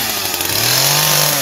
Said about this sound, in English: now you need a chainsaw because obviously in the woods we're not going to have a knife